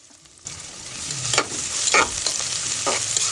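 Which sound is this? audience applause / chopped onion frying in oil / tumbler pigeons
chopped onion frying in oil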